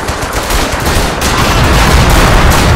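Dense gunfire and rattling machine-gun bursts from the Men of War battle at Verdun, loud and continuous, with shots overlapping throughout and no talk.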